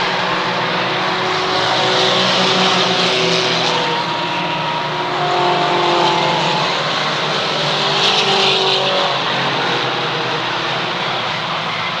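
A large field of mini stock race cars roars around the Waterford Speedbowl oval speedway, a dense continuous engine drone that swells and fades as the pack passes, loud and steady with no talk.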